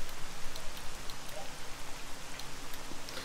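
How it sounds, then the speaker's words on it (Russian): Steady rain falling in the video game S.T.A.L.K.E.R. Call of Misery, a soft continuous patter with faint droplet ticks, quiet and even with no voices. "дождь мешает, видите."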